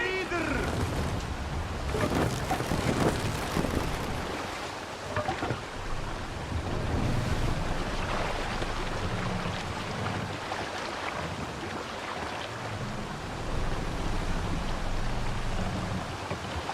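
A Viking longship sails through rough waves in Assassin's Creed Valhalla, a dense continuous wash of water and wind roaring throughout, with voices talking over it.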